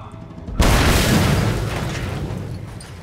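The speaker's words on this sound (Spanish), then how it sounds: "Vamos a poner la explosión." An explosion in Mad Max erupts as a sudden loud boom after a brief quiet, then a long rumbling roar that slowly fades away.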